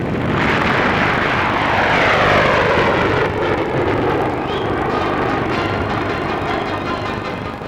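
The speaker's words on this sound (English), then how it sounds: "umont, chief test pilot of English Electric, pilots the latest version of the Canberra jet bomber, which is now going into production for the RAF" An English Electric Canberra jet bomber powered by two Avon gas turbines roars past at a 1950s Farnborough air display, a loud sustained broadband rush that swells and then slowly fades as it flies by.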